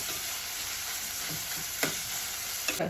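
Onions frying in plenty of oil until caramelized and browned, a continuous close sizzle broken by a few soft stirring scrapes, with no voices.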